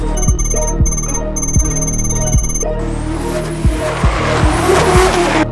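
A drift car's tires skid and squeal loudly over a steady engine drone and rhythmic thumping music, the screech rising and wavering in the second half.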